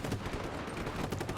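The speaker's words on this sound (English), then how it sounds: "lots of explosions, lots of gunfire" Rapid automatic gunfire and blasts from the video game Just Cause 3, a dense rattling stream of shots that stays fairly subdued throughout the brief moment.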